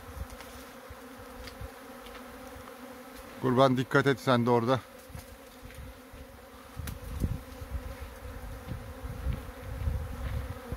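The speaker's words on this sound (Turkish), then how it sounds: "Şimdi orada toplaşıyorlar kalan arılar" A dense buzzing of a honey bee swarm hums steadily throughout, with a brief burst of nearby speech early on and outdoor rustling.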